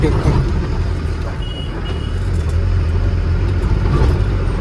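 Road traffic jammed on a main road and service road, a dense rumble of idling cars, trucks and buses with a faint beep, while someone talks over it.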